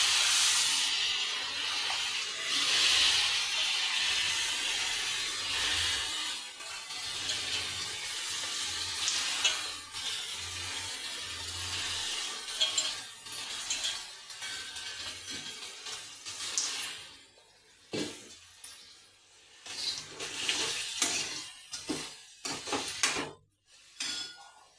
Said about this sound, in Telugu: ఈ పాస్తా ఇందులో వేసేయాలండి